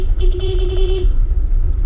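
A car horn sounds one sustained honk lasting about a second on a steep, narrow, bumpy downhill mountain curve, over the low rumble of the vehicle's engine and road noise.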